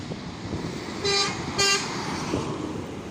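A truck's air horn gives two short, loud honks in quick succession against low road and engine noise, followed by a fainter blip.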